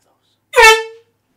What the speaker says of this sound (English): And now Jaya has found the foghorn, or whatever that thing's called, that also terrifies me